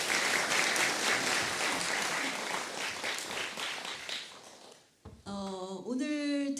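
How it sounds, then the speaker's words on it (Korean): Loud, dense applause from a concert audience at a Korean traditional gasa vocal performance fills several seconds, fades out, then a sustained musical tone begins. "다시 한번 큰 박수 보내주시기 바랍니다."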